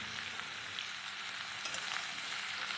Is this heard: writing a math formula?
no